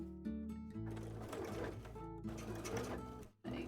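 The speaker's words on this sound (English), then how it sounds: "I don't want to sew over any beads today." A sewing machine stitches steadily in rapid mechanical bursts, its whirring motor and needle clatter close and continuous with a short pause near the end, with no talking.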